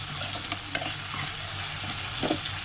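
Vegetables sautéing in hot oil for an okra tamarind curry, a steady broadband sizzle with a few sharp spoon-against-pan clinks and stirring scrapes, close and continuous without speech.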